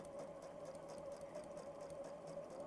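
A domestic sewing machine stitches steadily with its walking foot attached while a cushion is sewn, giving a constant close mechanical whir with fine rapid needle ticking.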